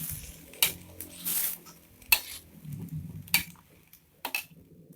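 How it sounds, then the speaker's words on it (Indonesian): Noodles with sliced celery stirred in a pan for coconut-milk mie tek tek, giving a series of sharp utensil clinks and scrapes against the pan at irregular intervals, close and moderately loud, with no talking. "Kita aduk."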